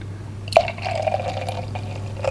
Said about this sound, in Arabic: بعد كده هحط بقى اللبن.